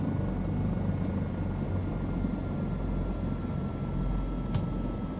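A Bell 407 helicopter in Microsoft Flight Simulator winds down: a steady, fairly quiet broadband rotor and engine rumble with a faint high whine, continuous and unchanging, with no voices.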